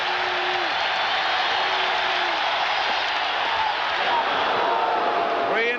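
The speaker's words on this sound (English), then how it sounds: "Crowd's in it now." Baseball stadium crowd at a 1986 National League Championship Series game, Astros vs Mets, roaring in a steady, dense wall of cheering and applause that holds loud throughout, with faint whistles rising above it.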